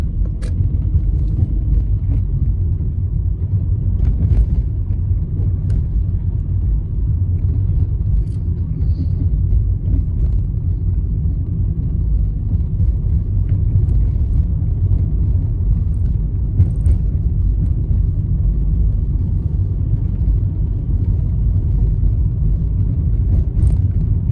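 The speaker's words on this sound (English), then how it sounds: "Gonna slow the car down." A car drives along a suburban road on a Sidcup driving test route, slowing for a turn, its steady low engine and road rumble continuous and close throughout with a faint occasional light jingle.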